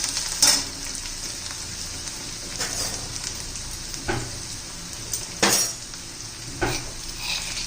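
Onion sautéing in a pan for a drumstick-leaf vegetable dish, a steady sizzle broken by several sharp clinks and scrapes of a spoon stirring against the metal.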